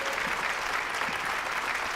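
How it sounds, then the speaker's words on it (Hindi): Guests at a company party applaud to welcome Mister Sau, with a short, steady burst of crowd clapping, even and continuous. "तो फिर तालियों से स्वागत कीजिए मिस्टर साउ का।"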